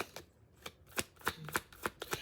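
Tarot cards being shuffled by hand, a run of crisp riffling flicks and soft slaps in an uneven rhythm, close and fairly quiet with no voice.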